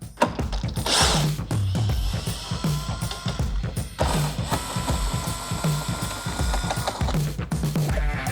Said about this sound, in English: we gotta take out 4 bolts right here.